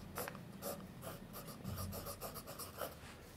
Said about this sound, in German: durch dieses Iridiumkorn gleitet der Füllhalter angenehm weich übers